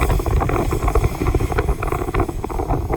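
Wind buffeting a microphone outdoors beside a ditch, a loud continuous low rumble with fluctuating gusts filling the whole stretch, no voices.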